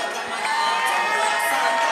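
A crowd at the BDBK 2 Banuelos vs Mendez fight event cheers and whoops for the fighters, a dense, steady roar of voices with scattered shouts that stays loud for about two seconds.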